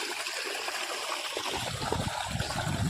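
Water from a check dam pours into a farm field, a steady close trickle that swells into a fuller, splashing rush partway through.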